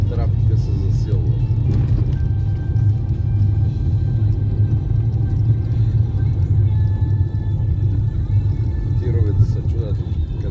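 Steady low rumble of road traffic with cars and trucks on a patched, potholed rural road between Lom and Kovachitsa, Bulgaria, continuous and fairly loud throughout, with a faint voice talking over it.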